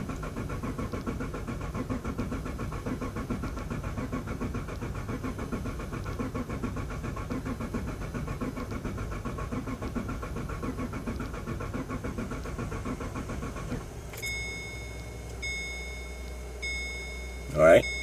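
An LS V8 engine, primed with oil after sitting unused for a long time, cranks steadily on the starter at wide open throttle for about fourteen seconds. It then stops, leaving a quieter stretch with a few beeps.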